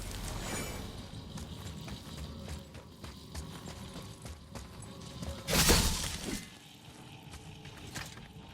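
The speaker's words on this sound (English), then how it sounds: "I will never get tired of shattering things with this." Objects shatter in the video game God of War. A loud, sharp crash of breaking debris bursts out past the midpoint over steady in-game rumble and footsteps.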